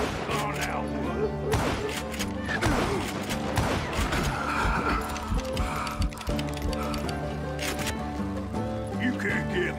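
Rapid video game gunfire crackles in dense bursts through a busy, continuous mix of game sounds and music, with a voice talking over much of it.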